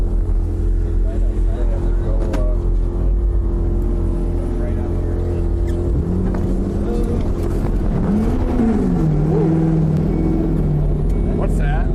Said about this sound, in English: Did we blow a muffler?